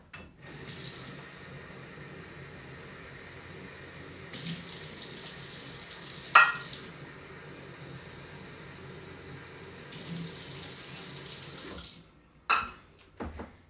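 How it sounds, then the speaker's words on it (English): Tap water runs steadily into a rice cooker pot, a continuous hiss of filling water with a brief clink of the pot midway, then the flow stops near the end with a couple of handling knocks. "So I'm just going to go ahead and put water in here."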